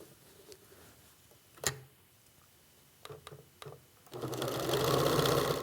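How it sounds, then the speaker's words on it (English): A sewing machine stitches the final seam of a T-shirt pillow, a short whirring burst early on, a few quick clicks, then a sustained close, loud run of stitching at the end. "So now I can sew it the rest of the way."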